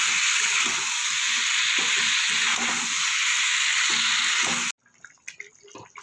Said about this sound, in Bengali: সব কিছু একসাথে একটু কষিয়ে নেব।